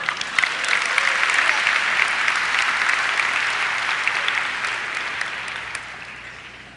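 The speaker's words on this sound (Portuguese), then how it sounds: "salva de palmas para ele" An audience applauds a participant with a lively round of clapping that swells quickly, holds steady, then gradually fades out.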